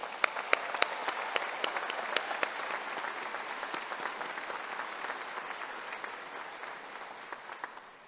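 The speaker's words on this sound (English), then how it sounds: "Let's give them another round of applause." A graduation audience applauds the undergraduate class of 2022 at a university commencement ceremony, with dense, steady clapping filling a large hall that gradually thins and fades toward the end.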